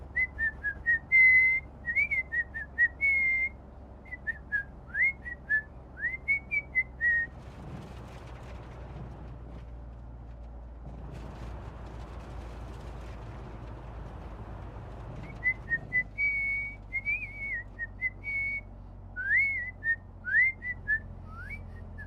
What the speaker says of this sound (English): Should I whistle while I work?